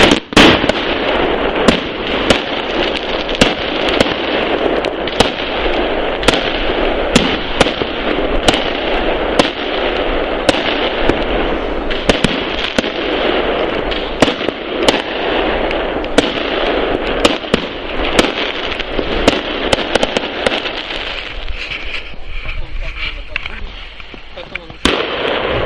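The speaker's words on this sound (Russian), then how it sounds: "Ну вот, отгремели салюты." New Year 2020 fireworks bursting continuously over a neighbourhood, with dense rapid bangs and crackling pops for the whole stretch and voices faintly underneath, thinning slightly near the end.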